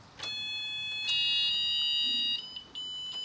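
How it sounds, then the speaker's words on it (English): Steady high electronic beeping tones with overlapping pitches from a boat's helm shifter control, a few sharp clicks between, continuing in a mechanical pattern without any talk. "the shifter's going to start beeping at me"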